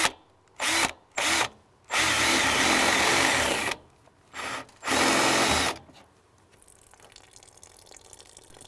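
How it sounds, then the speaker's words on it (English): A power drill bores a small drain hole in a moldy Midea U Smart Inverter window air conditioner, several loud whirring bursts of differing length separated by pauses, then quiet trickling. "I'm just going to drill a small hole and then let it drain a little bit"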